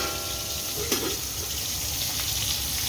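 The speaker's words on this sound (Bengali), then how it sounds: "মাছ ভাজা চলছে।" Fish frying in oil for a birthday lunch, a steady close sizzle and hiss with one brief clink of utensil, no voices.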